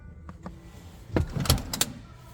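After a button is pressed in an Acura MDX Type S, the third-row seat access mechanism clicks and releases. Brief soft clicks come first, then a louder cluster of mechanical clunks and thumps from the moving seat, close by.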